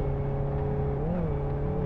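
A small Ford Ka engine drones steadily at speed in the Live for Speed racing game, its pitch holding level with a brief rise and dip as the car drives on, with no talking.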